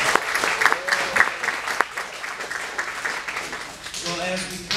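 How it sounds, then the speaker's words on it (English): An audience at an awards event claps in a loud, dense burst of applause that fades out toward the end, with voices around it. "So one more hand clap for our volunteers."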